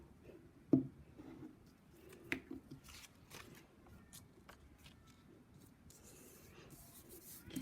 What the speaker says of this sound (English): Then I'm going to glue that onto my paper.